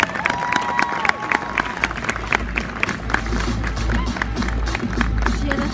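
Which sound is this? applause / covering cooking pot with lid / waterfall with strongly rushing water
applause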